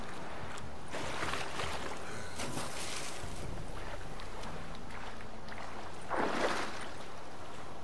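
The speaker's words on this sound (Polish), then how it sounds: "No to przepłynęmy się łódeczką." A small boat moves across water in The Witcher 3 with a steady wash of water and wind noise, building to a louder surge near the end, with no voices.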